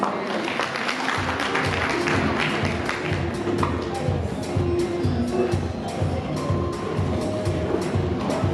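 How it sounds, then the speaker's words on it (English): An audience at a women in agribusiness conference applauds with dense, sustained clapping that fills the room for several seconds, fairly close and with a few louder individual claps. "A round of applause."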